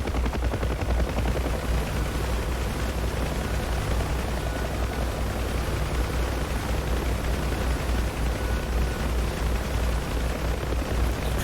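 UH-1H Huey helicopter in flight in DCS World, a dense, loud, steady rotor and turbine roar with rapid thumping blade chop running unbroken throughout.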